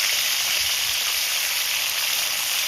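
Pieces of rohu fish fry in a hot pan with oil, making a loud, steady, close sizzle that continues without a break.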